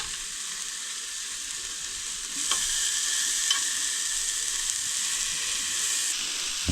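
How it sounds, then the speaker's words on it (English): Pork chop sizzling on a metal hot plate while cold-weather camping by a river, a steady close frying hiss that swells louder partway through, with no talking. "We're sizzling, right?"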